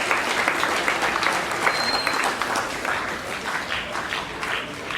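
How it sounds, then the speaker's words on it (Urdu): Steady applause from the audience at a retirement ceremony for a guest invited onto the stage, dense even clapping that fills the whole clip without a pause and with no voices over it. "زوردار تالیاں جناب عباد اللہ صاحب"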